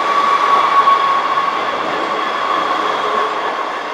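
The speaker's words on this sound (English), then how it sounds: "Up to a pair of trains." Two coupled class 158 diesel units, 158 866 and 158 788, rumble steadily past at close range, with a continuous loud drone and a thin wheel squeal running through the passage.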